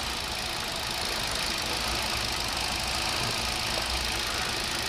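A Hyundai Accent engine idles rough with a misfiring cylinder, a steady close, loud hum with a fine knocking texture and no break throughout.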